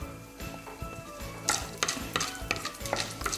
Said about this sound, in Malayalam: ഇതിലോട്ട് 1 ടീസ്പൂണ് ഉഴുന്ന് പരിപ്പ് ചേർത്ത് കൊടുക്കാം. പിന്നെ ഒരു 1/2 ടീസ്പൂണ് കടലപ്പരിപ്പ് ചേർത്ത് കൊടുക്കാം.